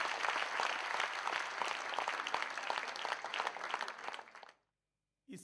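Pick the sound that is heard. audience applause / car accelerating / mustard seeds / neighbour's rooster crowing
audience applause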